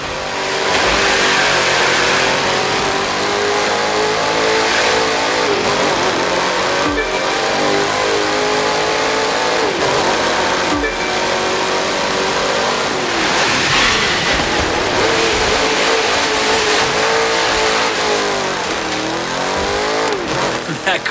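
A sleeper car in The Crew 2 accelerates hard, its engine roaring loud and continuous with rising and falling pitch through gear changes across a long sustained run.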